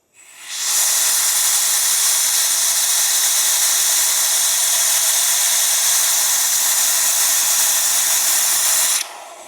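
A vacuum brake bleeder runs during a brake-bleeding job, giving a loud, steady, close hiss that starts abruptly and cuts off just before the end.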